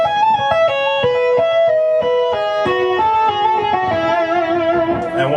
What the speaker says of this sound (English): Pull off to 11, pull off to 9. Sounds like this.